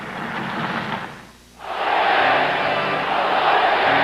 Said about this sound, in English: the crowd has turned against referee Ron Wicks now